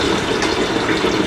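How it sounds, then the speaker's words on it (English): Water from a tap runs loud and close as something is rinsed under it, with a continuous gushing splash. "here I rinsed it and it is pretty much dirty"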